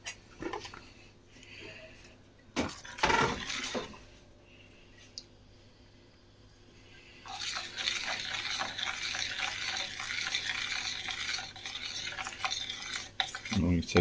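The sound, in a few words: stirring trifle custard in a pan on the heat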